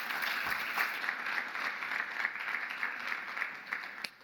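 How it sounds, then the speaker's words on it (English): Audience at a policy conference applauds a panel speaker, steady even clapping sustained for about four seconds at moderate loudness, with little talk beneath it. "Let's give Anna an applause as well."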